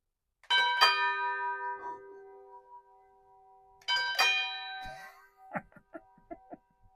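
A doorbell chimes twice, each a bright ding-dong tone that rings out and fades, followed by a few softer clinks.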